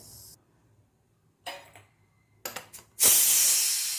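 Short bursts of steam hiss out of a pressure cooker cooking rice, then a loud, steady rush of escaping steam takes over near the end, close and sharp.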